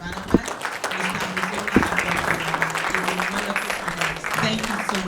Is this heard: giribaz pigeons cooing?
no